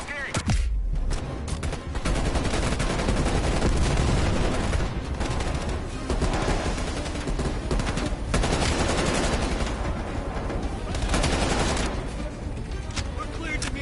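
Dense, sustained automatic gunfire from the Call of Duty: Cold War video game, with rapid bursts overlapping continuously and loudly for the whole stretch while voices talk over the shooting.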